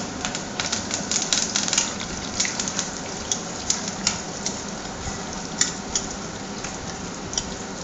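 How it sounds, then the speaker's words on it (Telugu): Curry leaves hit hot oil for a tempering in a dosakaya pachadi pickle, giving a steady close-up sizzle dotted with sharp crackling pops. "కరివేపాకు కూడా వేస్తున్నాను"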